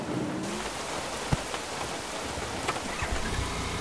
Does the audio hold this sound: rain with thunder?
yes